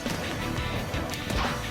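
Glass pillars smash and shatter during play in Sonic and the Secret Rings, a quick burst of crashing breakage over dense game sound lasting under two seconds.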